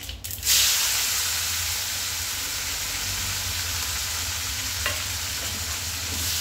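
Onion, tomato and garlic fry with steady sizzling in a hot pan, a continuous hiss that flares up early on, with a faint clink partway through.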